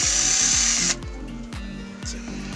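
A 12V cordless drill runs close up, a loud steady whine that drops to a lower, slightly uneven spin after about a second, with no talking.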